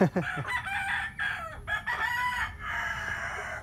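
Chicks and roosters in a small backyard flock peep and crow while waiting for feed, with repeated nearby crowing calls and chirps filling the clip and no talk.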